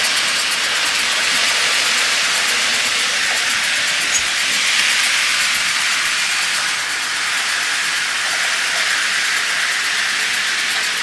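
Model trains running on a track around a Christmas tree, a continuous hissing, rolling wash that holds steady throughout with no talk.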